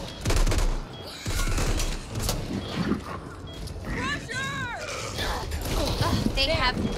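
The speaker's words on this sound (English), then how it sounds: "Firecrackers!" Firecrackers in the video game Back 4 Blood: rapid popping bursts crackle loudly and continuously, with people shouting and talking over them.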